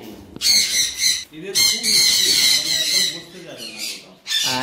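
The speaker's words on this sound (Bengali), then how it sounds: "এখানেও এক পেয়ার রয়েছে সানসি, এটা ডবল একটা সানসি।" A pair of sun conure parrots in a breeding setup let out loud, harsh, close squawks in long repeated bursts with only short gaps between them.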